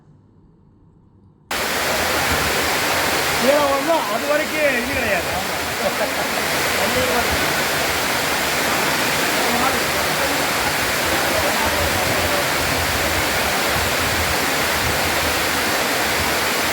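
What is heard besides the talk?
sudden waterfall from floodwater on Yanaimalai hill, Madurai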